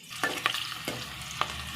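Onions fry in hot oil in a pot, a close, continuous sizzle broken by a few sharp spatula scrapes and clicks.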